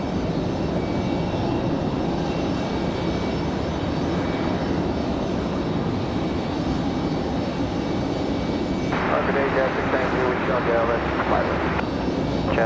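An Aeromexico jet airliner arriving from Mexico City at Raleigh-Durham airport gives a loud, continuous engine roar throughout, steady and close, with a brief higher-pitched layer near the end.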